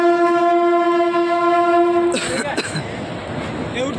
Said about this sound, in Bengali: চারিদিকে কুয়াশার মাঝে এই তো রেলওয়ে স্টেশন।